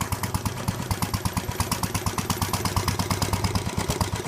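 An old hit-and-miss agricultural engine chugs along steadily, its regular, evenly spaced firing pulses loud and close, with no talk over it.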